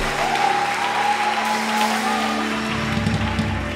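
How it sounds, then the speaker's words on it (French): A church congregation applauds throughout, a dense, loud, steady wash of clapping from a large crowd indoors, with a tonal hum from instruments or the sound system underneath. "Acclame Jésus, tu peux te rasseoir"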